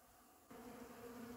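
A steady, close hum of honeybees at a pollen feeder beside a cedar tree, soft at first and then swelling louder as more insects drone nearby.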